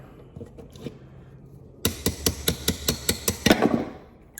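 A hammer taps metal on a rusted, scrapped golf cart charger, striking about a dozen sharp, evenly spaced blows close by after some quieter handling sounds.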